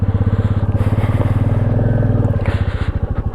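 Two Hero Impulse motorcycles idle and rev together at a Himalayan monastery near Keylong, a loud, close, steady pulsing thump with a brief swell in revs, then easing off near the end.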